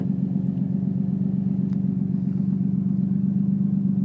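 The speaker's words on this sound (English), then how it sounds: "it'll idle at around 800 to" Nissan Skyline with an RB20DET engine idling with a misfire, a steady low mechanical drone close by that holds even throughout, with no talk over it.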